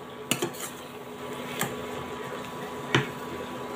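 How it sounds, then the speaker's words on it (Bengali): A spoon scrapes and clinks against a pan as grated papaya is stirred for papaya naru, with a few sharp metallic knocks spread over a steady low background. "তো অনবরত নাড়তে হবে কিন্তু।"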